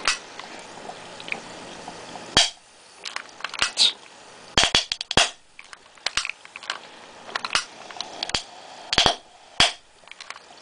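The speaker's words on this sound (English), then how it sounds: "the flame keeps going out, but you can definitely see that it's combustible, and it pops pretty loud" HHO hydrogen gas from a volcano cell generator igniting in a series of sharp, loud pops at irregular intervals over a soft bubbling hiss.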